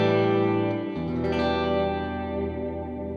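Fender Jaguar electric guitar with its high pass filter switch engaged, a strummed chord ringing with the low end trimmed and a sustained, slightly thinner tone, heard alone.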